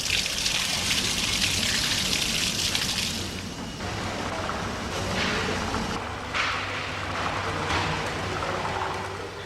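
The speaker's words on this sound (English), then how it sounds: "The liquid wax flows under gravity to the factory floor and is held in wax pans." Molten wax in a Dublin candle factory flows and drains under gravity toward the factory floor, a continuous watery trickle and pour that shifts in strength, with a brief stronger gush near the start.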